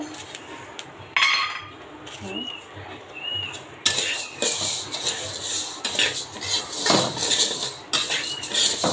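Sesame dry-roasting in a pan with flattened rice, close by, with steady scraping and rustling plus repeated metallic clinks of a utensil against the pan.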